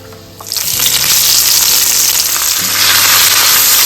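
Red onions sizzle loudly in hot oil with spices and squid for a kunthal dry fry, a steady broadband hiss that swells after a quiet start, with stirring scrapes breaking through.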